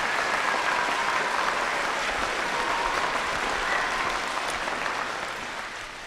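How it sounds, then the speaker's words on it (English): An audience at a primary school Veterans Day celebration gives a sustained round of applause that stays dense and even throughout, then fades a little near the end. "let's give Mrs. Brister and Mrs. Messmer a round of applause."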